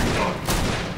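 A short burst of gunfire in the video game CountryCide, loud, dense, close-sounding shots packed into a single second.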